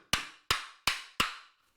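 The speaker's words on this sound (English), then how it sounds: "A couple of taps to free it." Four sharp hammer taps on the blade of a Japanese kanna hand plane, evenly spaced about a third of a second apart, each a crisp close knock with a short ringing decay, loosening the wedged iron.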